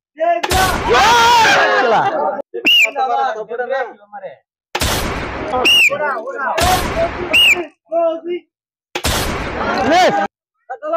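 Gun shots at a balloon-popping shooting challenge stall in Bongalmora, loud sharp bursts in three main clusters separated by pauses, close up, with voices calling between the shots.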